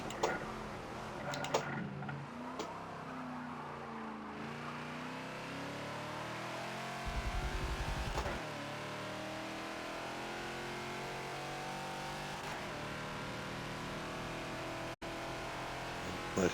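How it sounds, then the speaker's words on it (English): A Ferrari race car in the Forza video game drives past. Its engine note rises and falls in sweeping, revving tones at a steady loudness, with no talking. "Here comes the Ferrari."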